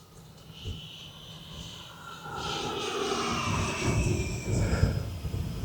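An E-flite Viper 90mm electric ducted-fan RC jet with an added afterburner flies past, a whining, rushing jet sound rising from faint to louder as it approaches, with tones shifting as it passes.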